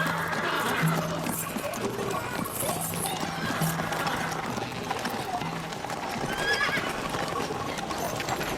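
A horse gallops with rapid clip-clop hoofbeats and lets out a neigh, fairly loud and continuous over a busy background of other sounds.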